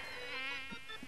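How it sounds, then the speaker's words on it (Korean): A mosquito buzzes in a thin, steady whine while flying around indoors in a house in Seoul with no air conditioning and no window screens. The whine is faint and continuous, with a few soft low thumps. "이렇게 자꾸 모기가 다니기도 하는데"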